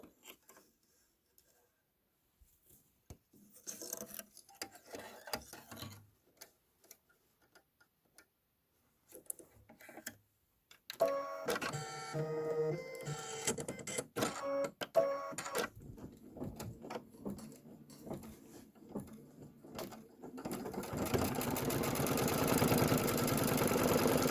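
An embroidery machine stitching a gable siding detail on a farmhouse design. It starts with sparse, quiet ticks, then turns into a steady, loud, rapid mechanical rattle of needle strikes that grows denser toward the end.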